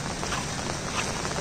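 Heavy rain pours down in a steady, dense hiss. The broadband noise stays constant and fairly loud through the brief moment, with no talk.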